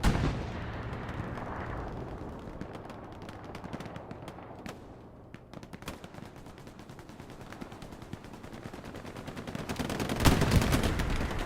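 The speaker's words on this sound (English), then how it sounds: "Another strafing run called in." Strafing airstrike gunfire during a competitive 49v49 Hell Let Loose match on PC: dense rapid crackling bursts and rattling shots continue throughout, with a heavy, louder impact near the end.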